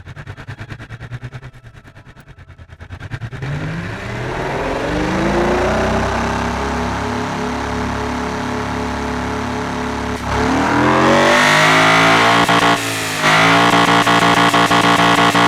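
A naturally aspirated, direct-injection car engine of 492 horsepower cranks, catches and settles into a loud steady drone, then revs hard twice near the end, close and alone without talk.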